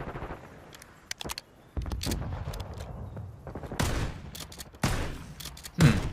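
A shotgun reloads in the video game Call of Duty Black Ops 6, with a series of sharp mechanical clacks and metallic clicks and a heavy racking sound near the end, close and loud against a quiet background.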